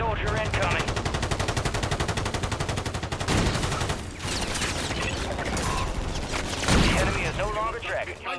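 Sustained automatic gunfire in Call of Duty Warzone 2, a fast even rattle of shots that breaks briefly and then resumes with heavier bursts, while players talk over it.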